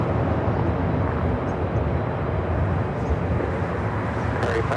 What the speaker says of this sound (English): That is Asiana Flight 204,